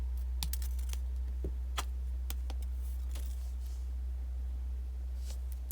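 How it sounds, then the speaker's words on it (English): Wire cutters snipping craft wire while making a wire wrap pendant, with several sharp, close ticks and snaps spread through the clip over a steady background hum, no talking. "So I'm going to cut that wire."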